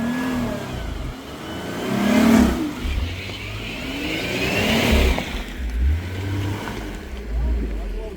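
A car engine revs and strains in bursts on a mountain road while people shout and talk nearby, trying to get the vehicle moving.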